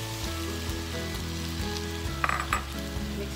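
Chicken chow mein with black pepper and sauce sizzles and crackles steadily in a hot pan while being stirred, with a few louder scraping bursts of the utensil near the end.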